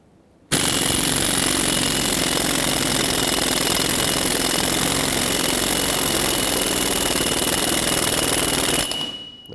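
A pneumatic impact wrench drives an axle nut on a 2003-2021 Chevrolet Express 3500 van, one loud continuous hammering burst lasting about eight seconds before cutting off abruptly.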